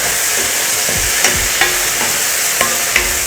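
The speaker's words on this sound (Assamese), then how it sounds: "এয়া মই কুন্দুলি ভাজিবলৈ লৈছোঁ" Ivy gourd fries with onion in a pan, giving a loud, continuous close-up sizzle marked by a few light scraping taps of a utensil.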